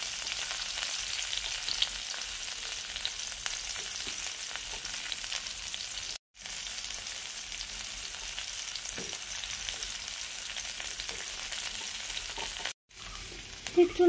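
Chopped onions frying in a small amount of oil in a home kitchen, a steady soft sizzle running throughout with two brief dropouts and faint stirring scrapes, no talk.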